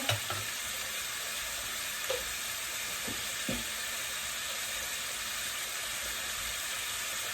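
Winter vegetable bhaji with onion sizzles steadily in a hot pan of oil, a continuous frying hiss with a few soft stirring knocks near the start, with no talking.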